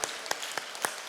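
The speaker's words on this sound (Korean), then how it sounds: "하나님께 영광의 박수 올리시기 바랍니다." A church congregation at a fasting prayer retreat clapping in praise: a short burst of rhythmic, evenly spaced claps over a continuous hiss of many hands.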